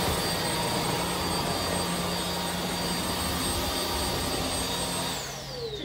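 An Iirios cordless stick vacuum cleaner runs close by with a steady, loud, high-pitched whirring hum. Near the end the motor winds down.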